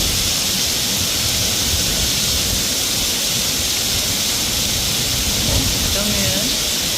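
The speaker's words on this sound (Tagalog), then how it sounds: "Lakas na ulan talaga." Heavy rain pours down in the Philippines as people shelter near a train, a loud, unbroken hiss of downpour that stays steady throughout.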